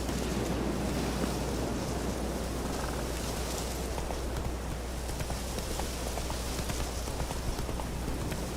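Horse galloping in the video game The Witcher 3, a steady, rapid drumming of hooves under a constant wind-like rush, loud and unbroken throughout.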